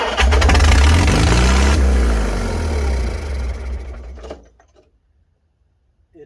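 A 1955 Farmall 300 RC tractor engine that had sat for 14 years starting, loud rumbling and revving high close by for about four seconds, then cutting off into silence.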